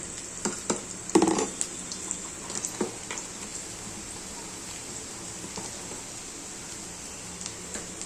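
A vegetable roasting in a pan until brown, giving a soft, steady sizzle with a few clattering stirs early on.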